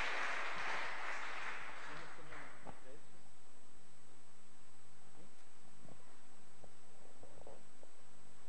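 A church congregation at a Sunday service claps for God in a dense burst of applause that swells at the start and fades within a few seconds, leaving a murmur of voices and scattered sounds.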